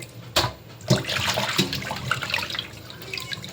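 Small sea fish are rinsed under running water, with sharp splashes at the start and a steady, close trickle and slosh that carries on throughout.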